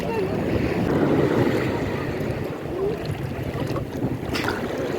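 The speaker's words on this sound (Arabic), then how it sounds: "الموج يا جماعة فظيع" High, rough sea waves surge and wash at a North Coast beach, a loud rolling roar with wind buffeting the microphone and brief voices in the background.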